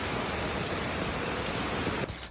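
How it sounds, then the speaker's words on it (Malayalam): Steady morning rain pours down in a dense, even hiss that holds without a break, with a brief shift in texture near the end. "രാവിലെ തന്നെ എന്തോ ഒരു മഴയാ"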